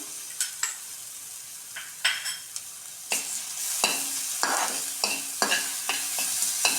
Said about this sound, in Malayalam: അതിലേക്ക് നമ്മൾ അരച്ചു വെച്ച ജിഞ്ചർ ഗാർലിക് പേസ്റ്റ് ആഡ് ചെയ്യാം.